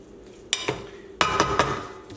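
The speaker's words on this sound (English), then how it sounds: "Just want to mix it so it doesn't stick." A spoon mixes drained angel hair pasta with olive oil in a pot, giving a few sharp metallic scrapes and clanks in two bursts, close and moderately loud.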